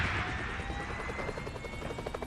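A helicopter in the mobile battle royale game PUBG Mobile, its rotor beating loudly and steadily up close for the whole moment, with no talk over it.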